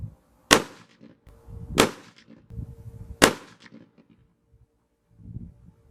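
A Bergara HMR rifle fires three sharp, cracking shots at a target, each about a second and a half apart with a short fading tail, and low rumbles and shuffling between them.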